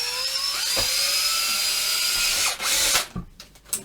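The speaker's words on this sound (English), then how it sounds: "I'm going to drill a pilot hole" A power drill whines steadily for about three seconds drilling a pilot hole while fitting a guitar coil split switch, then winds down, followed by a few clicks and clunks close by.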